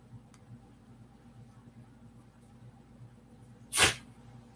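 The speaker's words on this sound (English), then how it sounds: "he was over there sneezing" Small dog Joey lets out a single short, sharp sneeze close by after a stretch of near silence with faint low hum.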